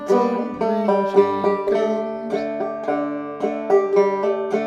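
Clawhammer banjo picks out She'll Be Comin' Round the Mountain with bright plucked notes and a steady bouncing rhythm, played alone at moderate volume.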